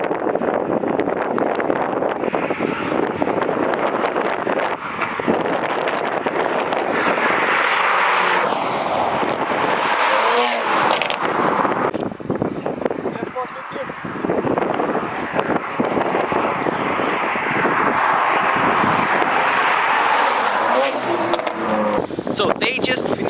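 A tuned Mercedes C43 and a BMW M4 racing from a rolling start, heard as loud continuous engine roar buried in heavy wind buffeting, with voices talking over it.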